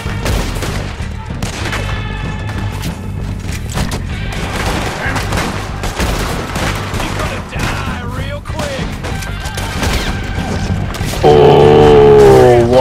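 Gunfire in the Red Dead Redemption 2 video game during a camp attack, dense and continuous under a loud game soundtrack, with a sharper burst near the end.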